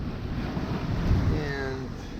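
Wind blowing at sea aboard a sailboat in light wind off Spain's Balearic Islands, a steady close rush of air and microphone buffeting with water wash beneath, no talk.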